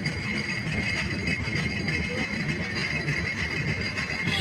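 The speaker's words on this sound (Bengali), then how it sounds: "আমাদের ট্রেনটি ছেড়ে দিয়েছে, আমি আস্তে আস্তে রওনা দিচ্ছি সৈয়দপুরের দিকে" A passenger train that has just left Ishwardi junction, bound toward Saidpur, runs steadily. It makes a constant, dense rumble and rattle of carriages heard from on board, with no pauses.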